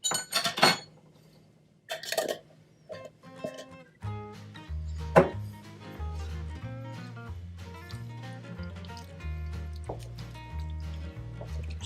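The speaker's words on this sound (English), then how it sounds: "Stir that in, let it dissolve." Better Than Bouillon beef base is stirred into a pot, with a spoon clinking and scraping against the sides in irregular bursts over a soft bubbling liquid sound, close and moderately quiet.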